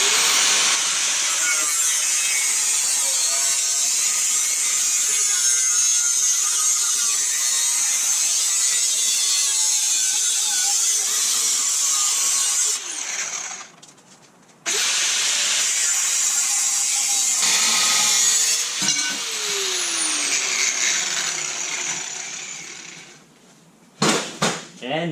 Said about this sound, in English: we're simply just going to take an angle grinder and cut across.